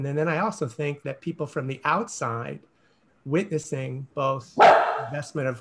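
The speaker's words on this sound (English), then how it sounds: "That was my dog." A pet dog gives a brief bark in the background while two people hold a conversation over a call, with talk nearly continuous around it.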